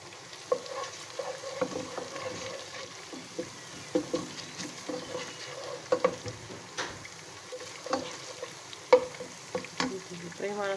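Cumin seeds sauté in oil in a pan for chicken jalfrezi under a low, steady sizzle, while a spoon stirs them with irregular scrapes and light clicks. No one speaks.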